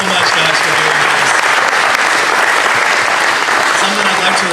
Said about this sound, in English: let's give all of our candidates a big round of applause